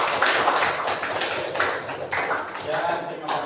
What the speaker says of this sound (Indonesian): Iya, berikan tepuk tangan dulu.